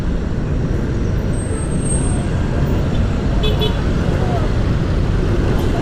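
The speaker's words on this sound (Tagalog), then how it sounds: "medyo may traffic eh" Road traffic heard from inside a moving vehicle near the Philippine Arena, a constant loud rumble of engines and tyres with a brief horn toot and hiss of air brakes, while people talk.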